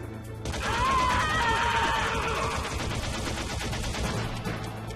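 Rapid gunfire from a PS3 shooting game plays loud and steady for several seconds, dense bursts layered over a constant low in-game hum, with faint voice-like sounds mixed in.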